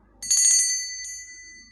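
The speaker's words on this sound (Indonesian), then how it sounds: "dengan ditandai lonceng berbunyi." A single small bell rings once, bright and clear, its tone lingering and fading in an otherwise quiet space.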